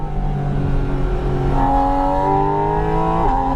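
A Porsche engine drones loudly while driving, holding a strong steady tone that rises in pitch as it pulls through the gears, heard from inside the car, close and continuous, with no talk.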